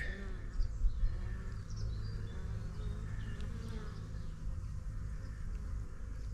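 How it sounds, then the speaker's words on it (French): Honeybees at a beehive hum in a steady, low, continuous drone close by, with occasional louder buzzes of individual bees flying past and a faint bird chirp in the background. "On voit que il y a quand même des abeilles."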